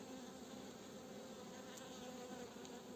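Honey bees at the hive, including emerging drones, hum in a dense, steady drone, many wings buzzing close by without pause.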